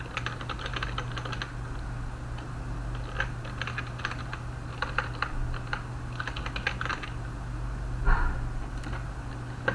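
Steady clicking of a computer keyboard as an email address is typed, coming in short bursts of keystrokes over a low steady hum, with no one talking.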